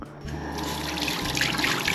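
Water runs steadily from a tap in a clean public restroom by the seaside in Yeonggwang, a continuous close splashing rush that starts after a brief quiet moment.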